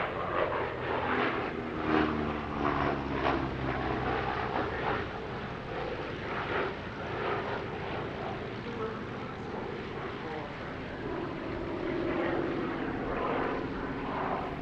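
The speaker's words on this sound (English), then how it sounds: "One of the rarest participants in the show was Mk.I-Cybern's CA-13 Boomerang replica, representing the first Australian-designed fighter aircraft." A CA-13 Boomerang replica fighter flies past at the Duxford Battle of Britain airshow, its piston engine and propeller giving a steady, fairly loud droning roar that rises and falls slightly throughout.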